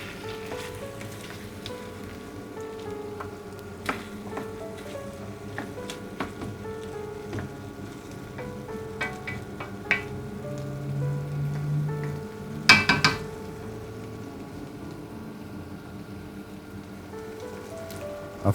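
Lamb cooks in a karahi over medium-high heat, giving a steady soft crackle and sizzle throughout, with occasional brief louder pops and one sharper clatter near the end, no voices present.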